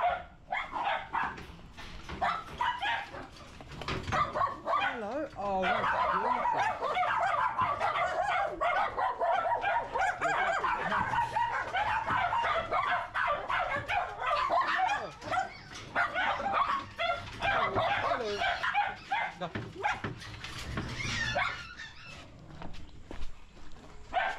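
Several dogs bark and yip almost nonstop outdoors in Sri Lanka, a loud, dense chorus of overlapping sharp barks and high yelps close by, with fowl-like calls mixed in and brief pauses.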